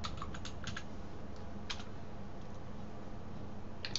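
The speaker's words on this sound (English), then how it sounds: "And we type in Java." Keys clatter on a computer keyboard in short bursts of quick taps separated by pauses, faint and close-miked.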